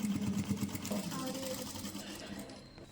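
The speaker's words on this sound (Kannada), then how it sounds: "ಇವಾಗ ಸೈಡ್ ಸ್ಟಿಚ್ ಹಾಕೋತಾ ಇರೋದು ಬಟ್ಟೆ ಜರ್ಗಾಡ್ದೇ ಇರೋ ಥರ." A sewing machine runs a side seam on a short kurta with bell-bottom full sleeves, a quiet close mechanical whirr that starts in brief bursts and then settles into a steady hum.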